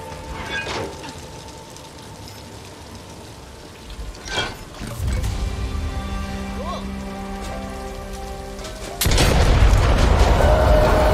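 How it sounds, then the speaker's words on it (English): A mine blowing up in the Back 4 Blood video game on PS5, a heavy boom landing near the end after a stretch of rumbling game ambience, loud and close. "Now let's blow that mine."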